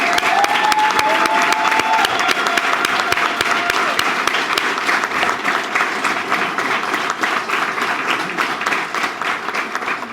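A ceremony crowd gives sustained, dense applause for singing cadets, steady and loud throughout with a brief whistle-like tone early on.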